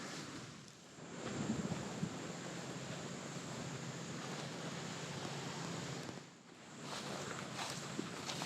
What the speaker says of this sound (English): Love the smell of these woods as this wind flows through the trees.